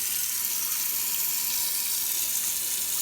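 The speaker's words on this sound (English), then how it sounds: "I will put very little water in the pot just to cover the base" Water is poured into a cooking pot beneath a perforated steamer, filling just the base of the pot; a steady, continuous hiss of splashing water runs alone for the whole stretch, close and fairly loud.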